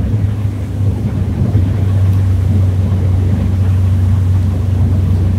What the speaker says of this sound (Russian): Будем постепенно убирать газ и смотреть,